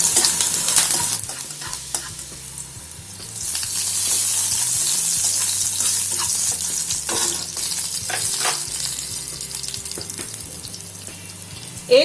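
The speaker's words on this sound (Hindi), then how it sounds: "गार्लिक थोड़ा सा ब्राउन हो जाएगा तो हम ड्राई चिली और मस्टर्ड सीड डालेंगे।" Garlic, dry chilli and mustard seeds fry in hot oil for an Odia vegetarian thali, giving a steady crackling sizzle with intermittent stirring scrapes, close and loud throughout with no talking.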